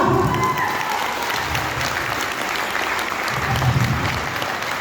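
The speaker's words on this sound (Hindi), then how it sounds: "हम बोलिए तो फिर ताली कौन बजाएगा?" An audience at a seminar in Pathankot claps continuously, a dense, even wash of applause from a large crowd filling the whole stretch.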